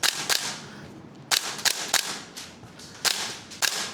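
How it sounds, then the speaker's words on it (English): Gunsmodify 416A5 MWS airsoft rifle firing, sharp snapping shots in irregular singles and quick pairs, loud and close, with quiet gaps between. "At the moment it's shooting better than the Scar does"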